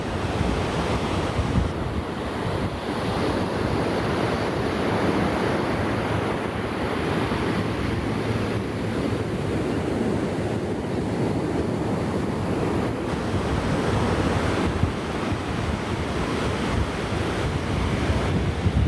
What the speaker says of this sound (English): The ocean is loud